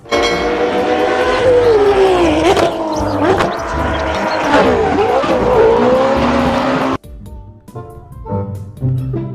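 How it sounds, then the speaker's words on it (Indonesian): Toy racing sedan car among construction and train toys gives off a loud, steady stream of electronic engine and siren-like sound effects with swooping tones, then cuts abruptly to quieter, sparser toy noises near the end. "kita mendapatkan mobil balap sedan teman-teman."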